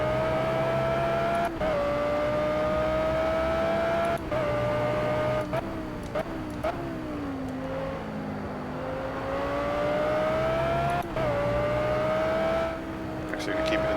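An Audi R8 race car engine in the Project Cars video game drones steadily with shifting pitch, rising and dropping through gear changes in a continuous loud whine, with someone talking over it.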